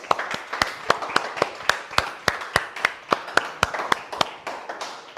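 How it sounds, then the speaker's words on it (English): A small meeting audience claps in a sparse, distinct rhythm, each hand clap sharp and separate, close by and fairly loud, with no speech over it. "So please give yourself a round of applause for that."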